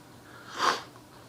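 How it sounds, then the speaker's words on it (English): One short, close sniffle: a quick nasal intake that swells and fades within a fraction of a second against a quiet room. "I got sniffles"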